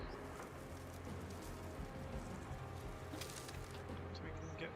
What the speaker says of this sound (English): it seems to be hailing itself right now